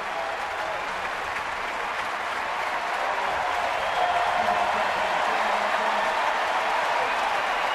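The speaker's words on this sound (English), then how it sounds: "So Vogelsong is going to get a nice round of applause." Crowd at a Diamondbacks–Giants baseball game giving a pitcher a warm round of applause as he leaves the mound, a dense, sustained wash of clapping from a large stadium audience that holds steady throughout.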